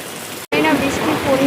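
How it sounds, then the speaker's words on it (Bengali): Heavy rain falls steadily as a dense, continuous hiss, broken only by a brief near-silent gap before it resumes at full strength. "বোঝাতে পারছি কিনা কি লেভেলের বৃষ্টি হচ্ছে"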